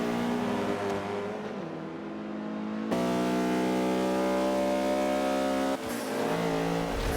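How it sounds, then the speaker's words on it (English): A race car engine with gearbox trouble in Forza Motorsport 5 drones loudly with strong harmonic tones that rise and shift in pitch across abrupt gear changes, steady and prominent throughout. "I suspect more gearbox issues from the sound of things."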